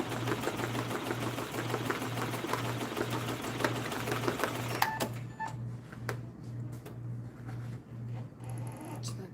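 Embroidery machine running without a bobbin, giving a loud, even, rapid needle hum with a regular pulsing rhythm for about five seconds, then stopping and leaving scattered clicks and light mechanical taps.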